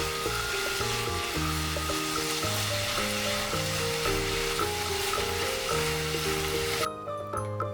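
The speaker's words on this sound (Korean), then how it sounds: "재료를 섞으면서 살짝 한번 볶아주시면 완성입니다." Shrimp and vegetables with broccoli stir-fry in a hot pan, giving a continuous close sizzle and crackle with light stirring, while background music plays underneath until a sudden drop near the end.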